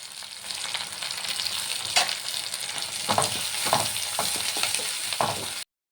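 Onion, garlic and curry leaves are sautéed in a pan, giving a steady close sizzle with several louder crackling bursts and scraping stirs, with no talking.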